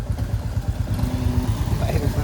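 A Bullet motorcycle rides along a hill road, its engine thumping in a steady low chug close by, with a voice talking over it.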